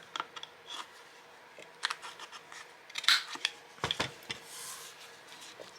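Scissors snip through craft material in a quiet room, a series of short crisp cuts with small pauses between them, close and fairly faint.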